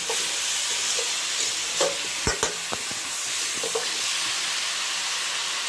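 Potato and pointed gourd with soaked chickpeas and sugar frying in a pan over a strongly burning stove: a steady, close sizzling hiss broken by a handful of sharp utensil clacks from stirring.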